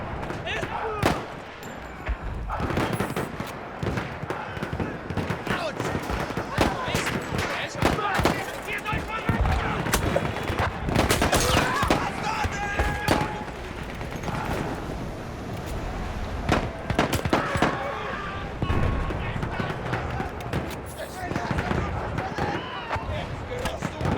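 Battlefield 1 combat gunfire: dense bursts of shots and explosive cracks repeat close and loud over a constant din, with voices speaking among the fighting.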